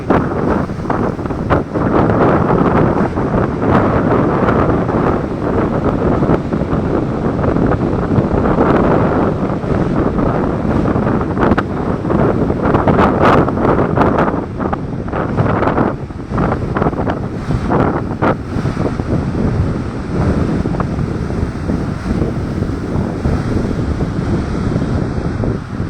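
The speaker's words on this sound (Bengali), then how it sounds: "সমুদ্র কীরকম ফুলে ফেঁপে উঠেছে দেখুন" Rough sea swollen by a low-pressure system at Digha Mohana, with loud, continuous wind buffeting the microphone over a dense roar of surf that surges and never lets up, no voices.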